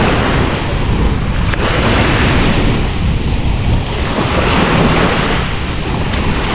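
Ocean surf washes steadily over a long sandy beach at Placencia, a loud, continuous roar with heavy wind buffeting the microphone throughout.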